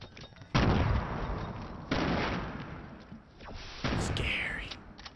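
Gunfire in Fortnite Battle Royale: three loud, abrupt bursts spaced about 1.5 seconds apart, each followed by a sustained roar that decays slowly, with a higher whooshing effect near the end.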